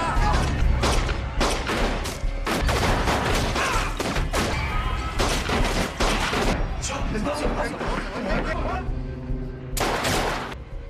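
Continuous loud gunfire and heavy impacts crackle throughout a gangster shootout in the 2015 film Mafia Narcos, bursts overlapping in a dense, chaotic barrage with no pause.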